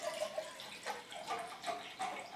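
Bottled water is poured into a Jetboil ZIP stove cup in a steady, close stream with gurgling bursts, faint and with no talking.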